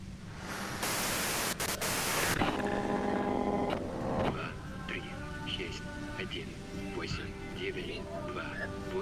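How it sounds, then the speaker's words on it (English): White noise static from the video game Disco Elysium bursts in loudly for about a second and a half, cuts out abruptly, then gives way to a speaking voice with music-like tones underneath. "If you've got something really important to say, you can do it through the white noise."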